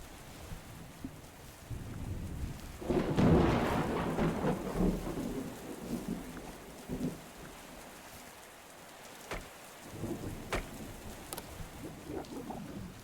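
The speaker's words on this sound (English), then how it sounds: "Oh, it's still raining." Rain in the survival game Oceaneers on a flooded waterworld, a steady hiss of rainfall with a rolling rumble of thunder swelling early on and sharp drip cracks later, no voices.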